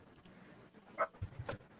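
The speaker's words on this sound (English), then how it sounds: "Oh, Walter the Wiener Dog." A dachshund gives a brief high whimper followed by a few soft quick pants, close and quiet against a faint background.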